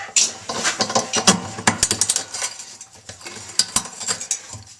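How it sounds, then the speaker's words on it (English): A ratcheting wrench turns a nut on a 1997-2001 Jeep Cherokee XJ fuel tank, making rapid close clicking bursts in quick runs mixed with metallic clinks, with no talking. "used a ratcheting wrench on the other here"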